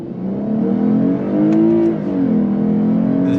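A Lexus IS 350 F Sport's naturally aspirated V6 accelerates hard from a stop, its smooth engine note climbing steadily in pitch, dipping briefly at a paddle-shifted gear change, then rising again, loud and close from inside the cabin.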